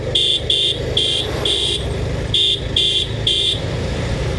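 Busy road traffic in Haridwar, with cars and motorbikes rumbling past steadily while horns toot in two rhythmic bursts of short, loud, repeated honks close by.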